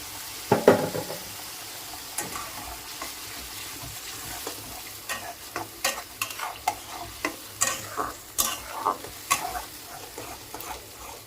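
Pieces of food going into hot oil a little at a time while cooking pointed gourd (potol) bharta: a constant close hiss punctuated by a series of sharp spitting crackles and clicks, growing denser in the second half.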